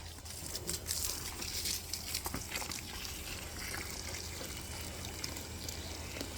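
Water from a hose or can patters and trickles steadily onto garden plants, with soft splashing and a few crinkly rustles throughout.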